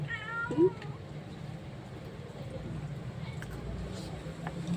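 A single short cat meow near the start, close by, followed by low background noise and a faint hum.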